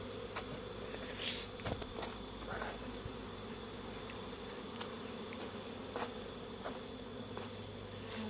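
Honey bees buzz steadily around their hive in late afternoon as foragers return, a dense continuous drone from many insects with no talk.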